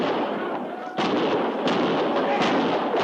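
Rifle gunfire sound effects in a radio drama battle scene on the frontier near Fort Laramie: a sharp loud crack followed by several more bursting shots over a noisy, crackling background.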